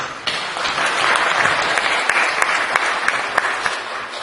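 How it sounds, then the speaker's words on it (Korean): A church congregation claps during a Korean worship service, a dense roomful of applause rising quickly and holding steady for several seconds with a few louder close claps. "여러분 감사의 박수 좀 드리겠습니다"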